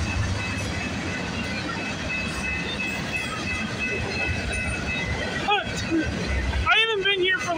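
A CPKC freight train rumbles steadily past nearby at Milton GO Station, wheels clattering on the rails, with squealing metallic tones rising near the end while someone talks.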